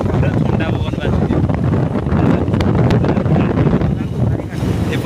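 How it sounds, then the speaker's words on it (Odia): Cold wind blows near the seashore by prawn farming ponds, a loud, constant rushing buffet against the microphone that fills the whole clip, with faint hints of surf beneath. "ପୁରା ଥଣ୍ଡା ପବନ ବାଜୁଛି।"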